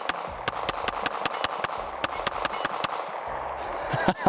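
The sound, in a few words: gunshots fired from a PX-9 pistol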